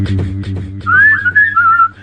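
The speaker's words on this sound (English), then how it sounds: "Just whistling." A person whistles a wavering, sliding tune close up over a low, rhythmic musical backing, the thin pure tone rising and dipping in short phrases.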